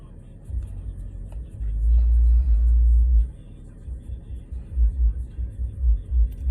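A parked car's engine idles with a deep, steady rumble close by, swelling louder for a few seconds before settling back into a low pulsing throb.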